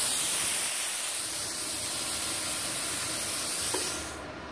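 A plasma cutter at maximum amperage in manual mode slicing through metal, a loud steady hiss of spraying air and arc that runs continuously before cutting off abruptly at the end.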